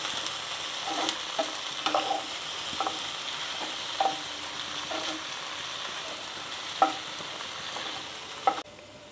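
Fresh mint leaves sautéing briefly in a pan for mint chutney, a steady soft sizzle broken by occasional scraping stirs and light clicks of a spatula, close and alone with no voices.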